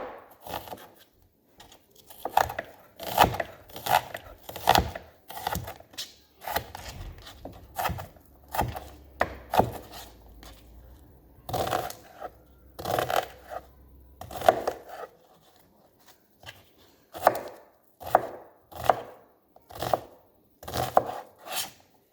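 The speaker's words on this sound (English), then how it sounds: "going to cut those right into small chunks" A knife chops vegetables into small chunks on a cutting board for baked ziti, producing a series of quiet, irregular taps with short pauses between bursts.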